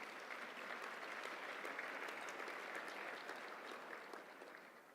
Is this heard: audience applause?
yes